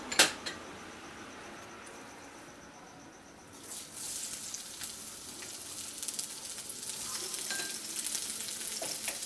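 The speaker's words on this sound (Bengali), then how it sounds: "তেল গরম হয়ে গেছে। দিয়ে দিচ্ছি এর মধ্যে একটু পেঁয়াজ কুচানো" Chopped onion hits hot mustard oil in a pan for an egg and spring onion dish, and a loud, crackling sizzle swells and holds steady after a quieter start.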